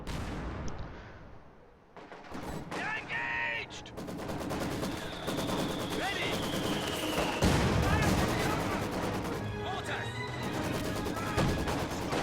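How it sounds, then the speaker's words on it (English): Mortar fire from the video game Company of Heroes 2 strikes a building in a battle, with repeated booming impacts, crashing debris and crackling gunfire layered densely throughout, while a commentator talks over it. "Are some of his mortars like hitting this building?"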